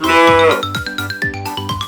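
A toy farm-animal book plays a cow's moo, one long, loud, close bellow, followed by a bouncy electronic jingle with a steady beat.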